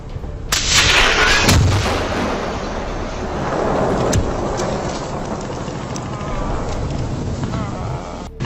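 Gunfire and rocket fire from war footage of a Hezbollah sniper firing on IDF positions: a dense, continuous roar of shooting with sharp cracks and heavier blasts, loud and sustained, with crackling reports throughout.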